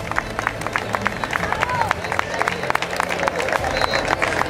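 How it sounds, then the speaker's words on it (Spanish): Hall crowd at an orienteering championship awards ceremony applauds the champions, steady mixed clapping with some cheers and crowd babble, loud and continuous throughout. "Un fuerte aplauso"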